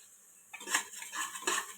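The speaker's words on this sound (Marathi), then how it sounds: "सगळं मिक्स करून घेते आता." A metal spoon scrapes and clinks against a cooking pan while spices and ingredients are mixed, a few sharp scraping strokes after a quiet start, close and fairly loud, no talking.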